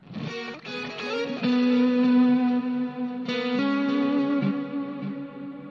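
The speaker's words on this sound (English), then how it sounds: "crazy amounts of reverb, crazy amounts of delay" Dense, sustained music drenched in heavy reverb and echoing delay, the harmonic layers smearing and trailing into one another, loud and continuous throughout.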